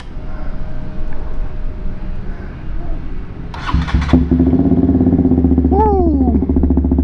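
Motorcycle with an open exhaust fired up after an exhaust swap: faint background noise, then a starter catch and a loud rumbling idle with a couple of sharp revs close by.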